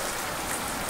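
Steady rain keeps falling after a heavy downpour in San José de Chiquitos, a dense, even hiss of drops with no pauses.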